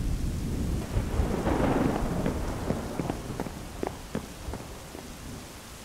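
Thunderstorm at night in Minecraft: a deep rumble of thunder rolls through steady rain, followed by scattered sharp cracks and drops, fairly quiet overall.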